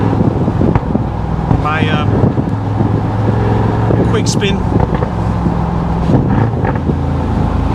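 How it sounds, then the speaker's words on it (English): A loud Mercedes-AMG G63 engine drones steadily from inside the moving SUV, its deep note from aftermarket Capristo exhaust mufflers mixed with wind and road noise while someone speaks briefly. "Capristo exhaust mufflers installed. Just been for a drive."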